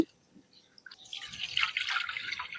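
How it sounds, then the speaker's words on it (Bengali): Rice and lentils are washed by hand in water in a deep bowl, with quiet splashing and dripping that builds after a near-silent start into steady, close sloshing. "একটু ভালো করে চটকে চটকে ধুয়ে নেব।"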